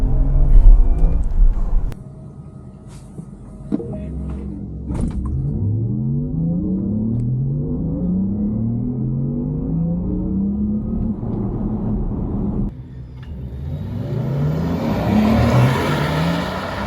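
A Porsche Macan 4 EV accelerates hard in Sport Plus from a launch, its electric motor whine climbing in repeated rising sweeps through each surge, heard from inside the cabin over a low road rumble, with no talking.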